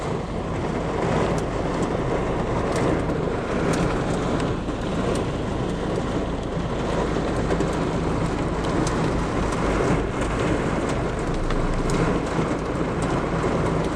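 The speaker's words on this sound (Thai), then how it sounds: "รอให้ฝนซา" Heavy summer hailstorm downpour with thunder, steady dense roar of rain and hail pelting close around a parked car after a night walking-street event, with scattered sharp impacts and low rumbles throughout, no voices.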